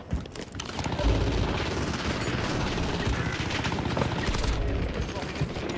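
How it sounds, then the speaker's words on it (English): Rapid automatic gunfire in the Warzone video game, sustained bursts of shots with booming impacts, loud and close, running continuously with a player talking over it. "Robert's shooting me."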